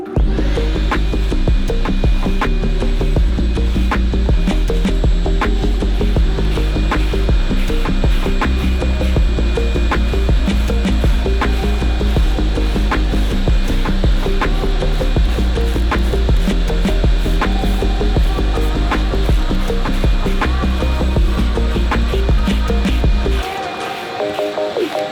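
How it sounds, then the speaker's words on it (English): A wire brush scrubs across a wooden surface with a continuous, gritty rasp, steady and loud for the length of the work before cutting off near the end. "So I'm gonna wire brush that, so there's a little bit of an indentation there."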